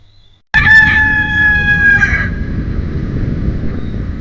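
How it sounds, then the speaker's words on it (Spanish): A farmyard rooster crows once, close and loud, in a long drawn-out call that trails into steady background noise. "El gallo."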